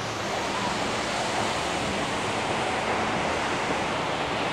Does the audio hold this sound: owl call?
no